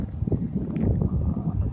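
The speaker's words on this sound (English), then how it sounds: "A little windy." Gusting wind buffets the microphone outdoors, a continuous low rumble with uneven thumping gusts, fairly loud and with no speech over it.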